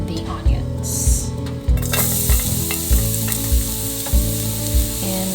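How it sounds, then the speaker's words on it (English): Garlic and onions sauté in oil in a pan for vegan pansit puso, sizzling loudly and continuously up close while a utensil scrapes and stirs in a regular rhythm of thumps. "Just add a little bit of oil on your pan. Then add the garlic and the onions."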